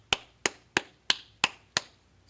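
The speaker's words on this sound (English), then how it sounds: "Clap it up, clap it up." Six sharp, evenly spaced claps ring out at a brisk rhythm, each a crisp, close hand strike fading quickly, heard at an event where a crowd is urged to applaud.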